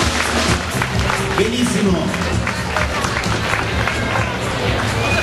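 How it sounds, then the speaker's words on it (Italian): A carnival crowd in Saronno applauds and cheers their mayor, a dense wash of clapping and crowd noise filling the whole stretch, with a voice speaking briefly over it. "Con un fortissimo applauso glielo vogliamo far sentire al nostro sindaco"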